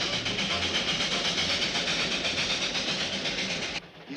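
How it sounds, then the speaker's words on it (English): A small old-fashioned train rolls along with a steady rumbling clatter and faint hiss, continuous and moderately loud, then drops off abruptly near the end. "That beautiful little train."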